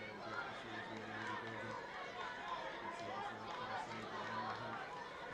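Large crowd of supporters at an FAI Intermediate Cup Final football match between Glebe North and Ringmahon Rangers, a steady roar of chatter and cheering filling the background, continuous and dense throughout.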